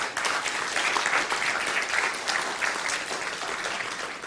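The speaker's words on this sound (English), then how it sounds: "So we really want to applaud Neil for what he did." An audience applauds at a cryonics presentation in Pompano Beach, with dense, steady clapping that fills the whole stretch at an even level and no voices over it.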